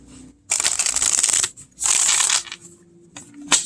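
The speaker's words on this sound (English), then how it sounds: "this is a small deck, but it shuffles amazing, obviously" A small Ukiyoe tarot deck is riffled twice in quick crisp bursts of card flutter, close and loud, followed by a few soft taps and card handling.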